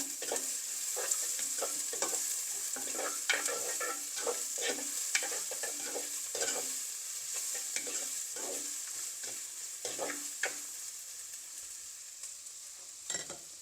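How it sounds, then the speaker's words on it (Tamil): Chopped large onion for vegetable biryani sizzles steadily in a pan while a utensil stirs and scrapes in repeated strokes, close and clear with no talking. "பெருசாக ஒரு வெங்காயம் வெட்டி வச்சுக்கலாம் பெரிய வெங்காயம் அதை சேர்க்குறேன் அதை நல்லா வதக்குறோம்"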